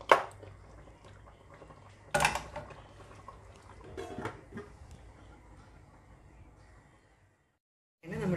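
Chicken curry being stirred in a pot, with scraping and clinking of a spoon against the metal in several bursts over a low bubbling simmer, then a short silence.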